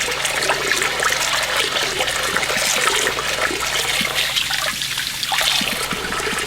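Water runs steadily into a basin filled for soaking and washing wigs, a continuous splashing rush with trickling texture, close and fairly loud, with no talking.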